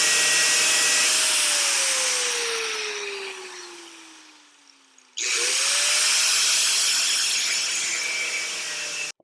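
Angle grinder cutting into a shock absorber part during an Inmotion RS Lite shock upgrade; a loud, steady motor whine drops in pitch as it winds down midway, then snaps back to full speed and keeps cutting.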